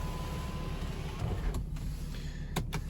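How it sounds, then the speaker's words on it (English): Electric sun blind in a BMW X5 3.0 40d M Sport xDrive cabin, a steady low motor whir running throughout with a few brief clicks near the end, close and fairly quiet. "another hard press towards the nose will close the sun blind"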